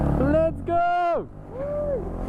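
A motorcycle engine revs up and down nearby in strong tonal surges, rising, falling and cutting out between blips before a softer final rev.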